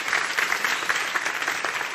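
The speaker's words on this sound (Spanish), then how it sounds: "Fuerte aplauso para ellos, sí, por favor" Warm audience applause at an oral health symposium closing, a crowd clapping steadily and fairly close, dense and even for the whole stretch with no voices over it.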